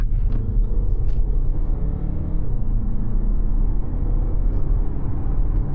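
Steady low engine rumble from inside a moving 2025 Audi Q5 SUV, even and moderately loud throughout with no voices.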